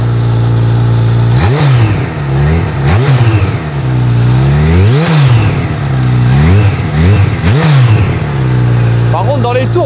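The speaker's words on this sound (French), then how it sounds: "Par contre, dans les tours, on entend la turbine." Motorcycle engine loud and close, revved repeatedly in rising and falling sweeps over a steady idle, with a turbine whine riding on top and a voice at the very end.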